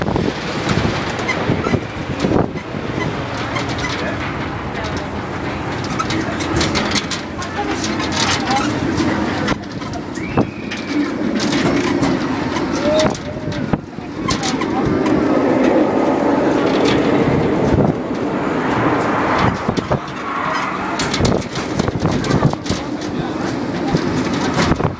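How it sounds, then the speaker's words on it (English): An amusement-park parking lot tram at Six Flags Magic Mountain rumbles and clatters along at low speed, wheels clicking and the car body creaking as it gradually slows to a stop, with a recorded announcement playing over the ride. "The train comes to a full and complete stop."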